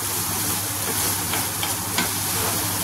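Onion fries in a pan until lightly reddened, giving a steady, dense sizzle with soft crackling that holds evenly throughout, close and loud with no voices.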